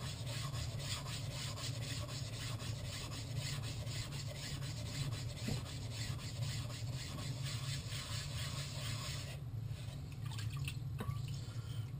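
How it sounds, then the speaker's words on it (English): Kohetsu fourth-generation ceramic sharpening stone being flattened, a steady wet gritty rubbing and rasping that runs continuously and close up, easing briefly near the end. "So we're going to start by flattening the stone."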